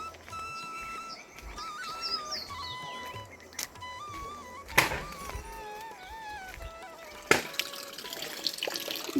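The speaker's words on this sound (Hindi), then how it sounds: "मैं पहुंच गई धारा पानी के लिए।" Water runs steadily from a village spring spout, a continuous splashing flow with occasional louder gushes and drips, while birds chirp clearly in the background.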